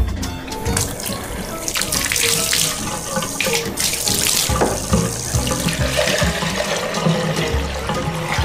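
Running water rinses a seven-week-old golden retriever puppy during its first bath, a steady close splashing flow with irregular spatters and gurgles throughout.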